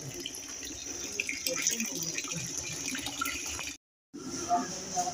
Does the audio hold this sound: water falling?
yes